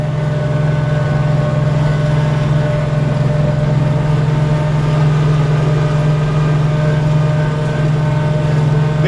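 Kioti CS2530 compact tractor engine running in low range with the throttle up, a loud steady close drone with a strong low hum that holds level throughout, no talk.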